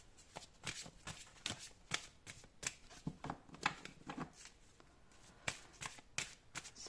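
Large oracle cards are shuffled by hand in quick, crisp flicks and riffles, close but soft, with a steady irregular rhythm and no talking.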